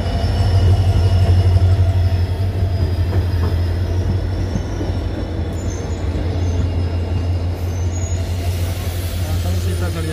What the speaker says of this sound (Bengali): আর ওই অপোজিট দিক থেকে আসছে শিলিগুড়ি থেকে, বালুরঘাট থেকে শিলিগুড়ি যাওয়ার ইন্টারসিটি এক্সপ্রেস।